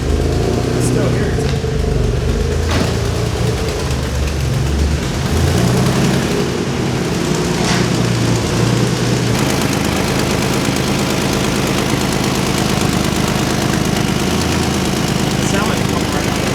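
A 700hp Nissan G35 engine runs steadily with a loud, constant rumble and exhaust puffing from a leak at the V-band clamp, the droning noise continuing throughout with people talking over it.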